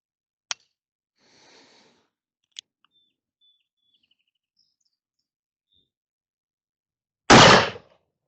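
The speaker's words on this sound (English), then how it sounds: "Fired 2 rounds on that one trigger pull." An 1873 Great Western black powder revolver chain-firing two rounds on one trigger pull at an outdoor range about 25 yards from the target, heard as a single loud, close blast after several seconds of near silence and faint clicks.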